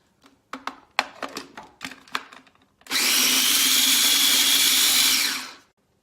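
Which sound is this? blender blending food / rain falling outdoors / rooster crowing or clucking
blender blending food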